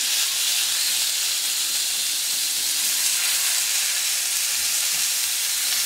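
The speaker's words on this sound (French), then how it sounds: "on va monter un tout petit peu la plancha parce que le bœuf, ça doit être bien saisi" Marinated beef skewers sear on a hot plancha, a steady bright sizzle and hiss running unbroken and fairly loud throughout, with no talking over it.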